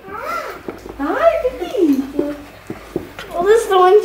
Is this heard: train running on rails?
no